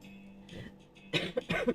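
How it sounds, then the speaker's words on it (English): A short burst of close, breathy coughing, a couple of harsh coughs following a quieter throat sound. "I'm gonna cough, so I'm gonna mute."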